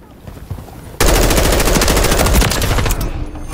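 Loud, close automatic gunfire in Modern Warfare III erupts suddenly after a quieter second, a rapid continuous burst hammering for about two seconds before easing off.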